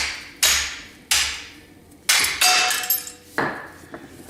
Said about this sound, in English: Just knock it off with the hammer